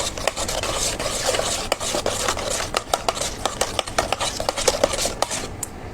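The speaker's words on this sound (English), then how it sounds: "So you just give it a nice stir." A spoon or spatula stirs cold, slightly congealed reheated mashed potatoes in a pan, making a run of close scraping, rasping strokes that get sharper and more rhythmic toward the end.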